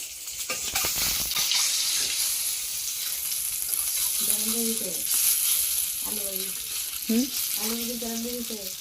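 Potatoes fry in a pan with a steady, close sizzle and occasional stirring clatter, while people talk in short bursts over the cooking.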